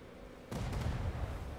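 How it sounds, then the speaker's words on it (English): Ship cannons fire in the video game Atlas, a sudden deep booming volley that starts abruptly and rumbles on with a few overlapping blasts. "Oh, he has rear cannons."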